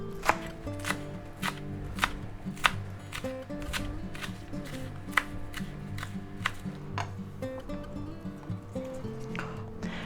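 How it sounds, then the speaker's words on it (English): Cabbage and other vegetables for ham and cabbage are chopped on a cutting board, a brisk series of sharp knife strikes in an uneven rhythm, close and moderately quiet, with no talking. "And then we'll chop them up together"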